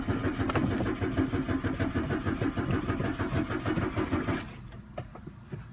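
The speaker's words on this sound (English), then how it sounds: "It's cranking, but it's not turning over." A 1996 Chevy Cavalier engine cranks repeatedly without catching, a loud, close, steady rhythmic churning that lasts several seconds and then cuts off, leaving a quieter tail.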